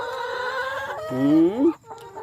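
Laying hens cluck and call nearby, with a drawn-out rising rooster-like squawk in the middle over a quieter background of clucking.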